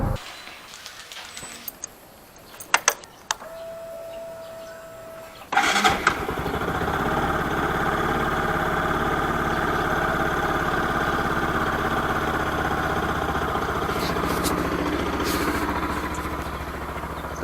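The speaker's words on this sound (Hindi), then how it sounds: "बाकी अभी बाइक कोल्ड स्टार्ट करने जा रहा हूँ" A motorcycle cold start on a Meghalaya ride: after a few clicks and a brief whir, the engine fires and settles into a steady, loud idle that runs on without a break.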